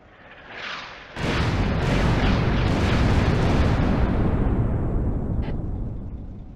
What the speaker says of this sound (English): The rounds land.